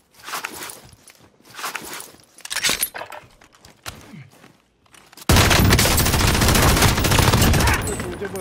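Gunfire from Call of Duty Warzone: scattered shots and footsteps give way to a sudden, sustained loud burst of automatic fire that fills the last three seconds.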